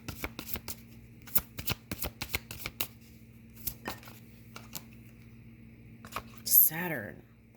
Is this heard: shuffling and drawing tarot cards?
yes